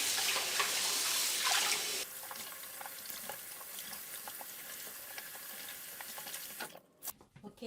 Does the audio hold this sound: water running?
yes